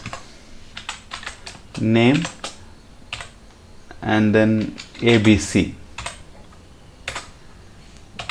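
Rapid clicking of keys on a computer keyboard, in short bursts, with someone speaking in between the typing.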